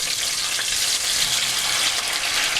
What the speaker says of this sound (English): We're frying these up.